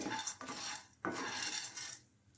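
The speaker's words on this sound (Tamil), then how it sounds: "சும்மா வெறும் பேனில் மட்டும் இதை வறுத்துக்கணுங்க" Roasted gram (pottukadalai) dry roasting in a pan without oil or ghee, with a spoon scraping and stirring against the metal in quick bursts and sharp clinks, fairly quiet and close, no talking.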